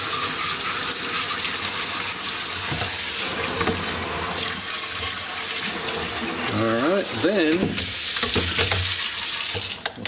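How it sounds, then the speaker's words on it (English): Hot tap water runs steadily, gushing and splashing over a 25-inch K7400 arcade monitor being rinsed, loud and continuous, with brief speech partway through. "So water's already hot. Let's turn it on. And we'll start by just rinsing this off."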